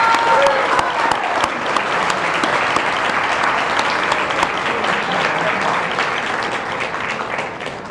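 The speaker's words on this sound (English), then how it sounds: "So let's hear a round of applause for Bob O'Connor." A crowd applauds steadily and loudly for several seconds at a chamber of commerce annual meeting, dense clapping filling the room without pause.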